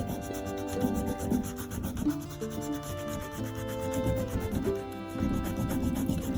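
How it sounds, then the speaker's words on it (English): Rubber eraser scrubbing out pencil marks on a paper sketch, a steady close scratchy rubbing with quick back-and-forth strokes running throughout, partly under soft background music. "So I'm going to erase all the pencil marks right now."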